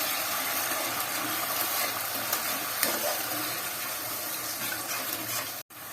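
Water poured into a pan of pomfret fish curry gives a loud, continuous hissing bubble with a few stirring knocks, close and steady, cutting off abruptly near the end, no talking.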